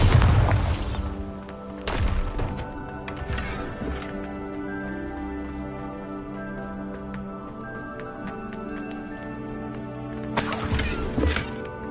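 Bombarda blasting spells in Hogwarts Legacy, several heavy booming impacts with crashing debris, loud and close, separated by a ringing tonal wash, then a final big blast near the end.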